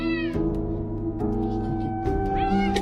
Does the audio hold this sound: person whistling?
no